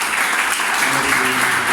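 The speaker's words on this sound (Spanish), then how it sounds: "Yo les pido un aplauso para ustedes." Audience applause from a congregation at a Bible studies gathering, a steady, dense wash of clapping that fills the whole moment, loud and close, with faint voices mixed in.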